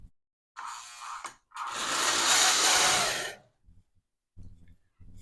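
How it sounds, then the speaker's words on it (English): Lionel toy train set running on dry, unlubricated gears, a close buzzing mechanical whir in two bursts, a short one then a longer, louder stretch, followed by faint clicks. "that noise was the sound of nice dry gears just going"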